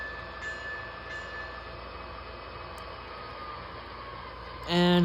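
An MTH model train locomotive with flashing ditch lights runs on its track in a Christmas train set, giving a steady close whirring rumble throughout, with a brief clatter at the very end.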